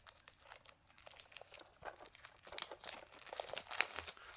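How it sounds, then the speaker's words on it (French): Plastic wrap being peeled and torn off a Disney/Marvel steelbook, with close, quiet crinkling and tearing bursts that build up irregularly over a few seconds and have no speech over them. "Donc voilà, je vais le déballer"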